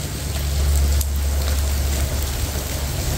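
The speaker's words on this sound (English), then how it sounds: "it's raining down hard right now" Heavy rain pours steadily with a dense, loud hiss and a low rumble, continuing without a break.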